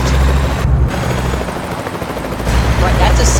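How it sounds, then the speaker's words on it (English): Helicopter rotor drone in the American Truck Simulator video game, a loud steady low thumping and whir that fills the whole stretch, with engine-like rumble underneath and a brief dip in the upper range near the start. "There's a helicopter here too?"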